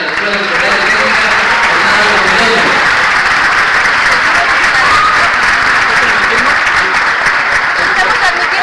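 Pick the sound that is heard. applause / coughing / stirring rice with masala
applause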